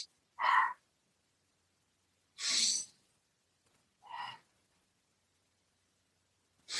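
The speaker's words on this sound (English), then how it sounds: "It's in through the nose, out through the mouth, and no pausing at the beginning of the inhale or the ending of the exhale." Continuous conscious breathing demonstrated by one person, in through the nose and out through the mouth: three short, breathy bursts spaced a second or two apart with silence between them, close and clear.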